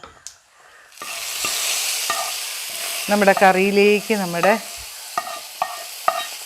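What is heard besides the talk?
tempered mustard seeds added to curry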